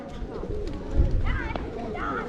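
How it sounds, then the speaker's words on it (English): Pigeons coo on the main town square of Uzhhorod in western Ukraine, soft throaty calls repeating close by amid outdoor crowd noise and people talking. "Pigeons."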